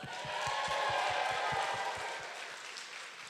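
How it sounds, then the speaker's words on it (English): A gathered crowd of guests applauds the food vendors at a celebration, a steady close wash of clapping that swells and then slowly tapers off, with a few louder individual claps standing out. "Please give them a round of applause."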